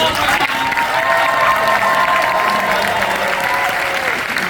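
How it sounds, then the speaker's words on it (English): A large audience at a Fan Expo Canada 2022 panel in Toronto with Elijah Wood claps loudly and steadily throughout, a dense, sustained wash of applause with faint crowd voices mixed in. "Toronto, please give a big round of applause."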